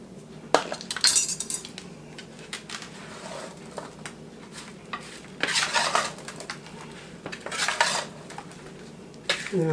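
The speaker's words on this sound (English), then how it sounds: "And then I'll toss it and let these breadcrumbs toast." Breadcrumbs tossed with Italian herbs toast in a pan, with irregular bursts of scraping and clattering as they are stirred and flipped, over a faint background sizzle and no talking.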